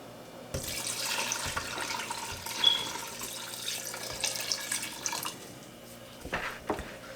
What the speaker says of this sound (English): So I'm gonna put some more water in here.